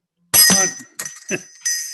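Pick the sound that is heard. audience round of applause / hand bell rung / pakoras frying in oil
hand bell rung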